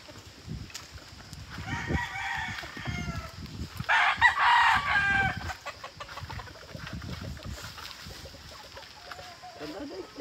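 A rooster crows on a farm in the Philippines during a coconut harvest, one loud nearby crow with clucking fowl around it, while people talk over scattered clatter.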